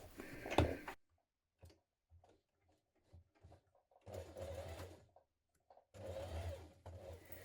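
Domestic sewing machine running short bursts of stitching along the strap of children's dungarees, quiet ticking pauses between two longer motor runs, close and fairly faint.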